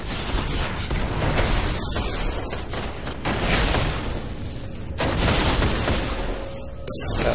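Gunfire in a multiplayer shooter video game, a zone-capture match on the Rusted Lands map, as dense, continuous rattling shots with sharp bursts, fairly loud and sustained, with no voices.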